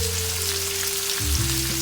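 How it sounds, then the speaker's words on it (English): Lamb chops frying in hot oil in a pan give a steady, close crackling sizzle with no voices, with a slightly louder burst of spattering near the end. "Y'all hear that sizzle?"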